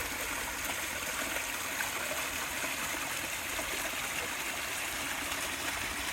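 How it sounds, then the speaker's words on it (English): Steady rushing and splashing of water from a small waterfall, constant and fairly close, with no voices. "Another little waterfall."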